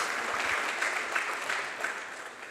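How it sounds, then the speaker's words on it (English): An audience at a panel talk on European degrees claps together, a dense steady round of applause that fades slightly toward the end, no talking over it. "We can applaud her, I think."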